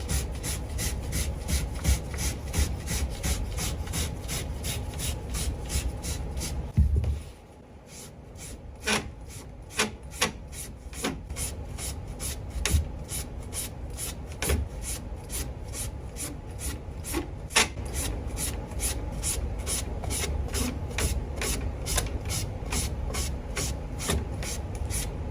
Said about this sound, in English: I use a sandpaper number 100 to do it